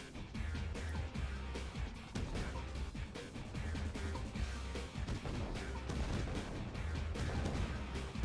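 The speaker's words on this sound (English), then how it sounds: "Tank versus tank battle." Tank battle in the real-time strategy game Red Alert 2 rumbles with continuous, dense cannon fire and explosions, heavy booms repeating without pause.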